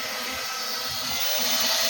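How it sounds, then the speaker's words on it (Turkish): A Bood Targa drone taking off: a steady high-pitched whirring hum of spinning rotors, close and continuous, growing slightly louder toward the end. "Evet şimdi yukarı kaldırıyorum drone'u."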